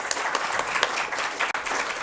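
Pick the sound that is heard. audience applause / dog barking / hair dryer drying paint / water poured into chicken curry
audience applause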